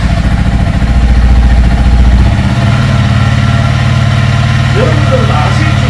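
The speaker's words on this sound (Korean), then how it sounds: "엔진 소리 한번 들어볼까요?" A Honda CRF300L single-cylinder motorcycle engine idles roughly nearby, a loud low throbbing rumble with a lumpy, uneven beat throughout, the counterbalance shaft audibly turning.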